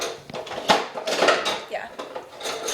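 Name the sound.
mixing batter with a small whisk in a bowl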